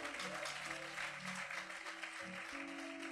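A church congregation claps in praise to God during a sermon, a steady wash of many hands sustained throughout, with music or voices humming underneath.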